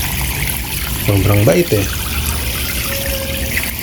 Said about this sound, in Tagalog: pupunin lang po natin ng tubig